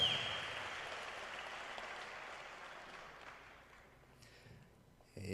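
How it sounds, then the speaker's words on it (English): Audience applause for Brian Nelson at the World Beard and Moustache Championships, a steady broadband clapping that fills the room, slowly thins toward the end, then swells briefly again. "He's going to hate that I made everybody clap for him"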